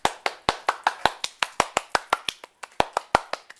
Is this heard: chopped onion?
no